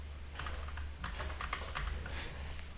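Code is typed on a computer keyboard in a quick, uneven run of close key clicks over a low background hum.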